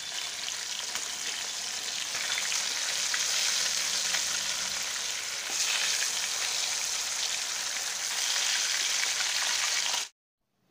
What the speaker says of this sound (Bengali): মাঝারি আঁচে মাছগুলোকে ভেজে নিব।